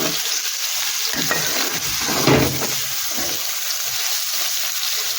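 Potato cubes sautéing in a pan for a Tamil-style potato poriyal, a steady close sizzle of frying with scraping stir strokes around the middle, no voices.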